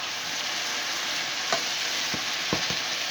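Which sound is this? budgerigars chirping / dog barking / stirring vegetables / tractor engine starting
stirring vegetables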